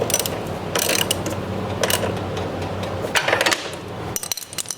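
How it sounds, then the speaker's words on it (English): A ratchet tightens the bolt on a Cub Cadet mower deck idler pulley, giving bursts of rapid clicking, each lasting about a second and separated by brief pauses, close up and with no talk. "put your ratchet on top. Just tighten it till it's snug, nice and tight."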